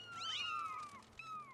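Cats meow in the video game Skyward Sword HD: a drawn-out, rising and falling cry and then a shorter second meow, both clear over a low game hum.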